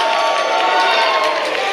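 An indoor wrestling arena crowd roars steadily, a loud, continuous wash of cheering with no break across the moment.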